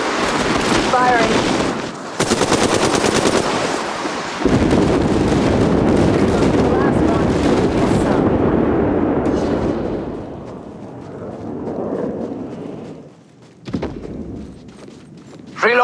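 Gunfire in Apex Legends Mobile: heavy, loud bursts of rapid shots and blasts that come in several long volleys with short gaps between them.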